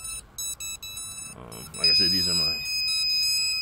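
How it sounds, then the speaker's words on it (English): Repeated electronic alarm beeps from Turnigy Plush 18A ESCs flashed with BLHeli on a DJI F550 Flame Wheel, short evenly spaced tones at first, then continuing beneath someone talking. "And we're having some sort of alarm."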